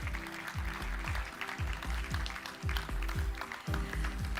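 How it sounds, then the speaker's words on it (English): Audience applause for two executives at a Genesis G80 launch event, a steady, dense patter of clapping from a crowd that holds throughout at moderate level with no break. "please give two executives a big round of applause"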